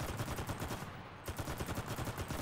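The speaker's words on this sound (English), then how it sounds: "He's shooting on me now." Sustained machine-gun fire from the shooter game CRSED hammers out in fast, loud bursts, pausing briefly partway through and then continuing.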